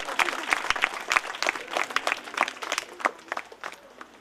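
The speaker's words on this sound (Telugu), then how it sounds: "ఒకసారి ఆ పిల్లలందరికీ కూడా గట్టిగా చప్పట్లతో మనం అభినందనలు తెలియజేద్దాం" Loud, dense applause from an audience clapping for schoolchildren at a student poets' gathering at Sarangapur ZPHS school, a steady crackling burst that runs the full length and fades slightly at the end.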